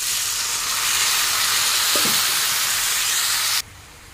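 Fish roe curry with added water and garam masala powder fries loudly in a pan, a dense continuous sizzle with a faint stir clink midway before the level suddenly drops near the end.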